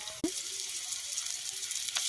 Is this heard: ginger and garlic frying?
yes